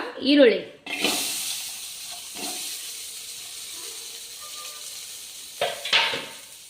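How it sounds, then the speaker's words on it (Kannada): Onions frying in oil in a pan for a tomato chutney give a soft, steady sizzle that runs quietly through the whole stretch, with a few brief louder bursts of stirring or spattering and some voice sounds near the start. "ಈರುಳ್ಳಿನೂ ಎಣ್ಣೆ ಹಾಕಿ ಹುರ್ಕೋಣ."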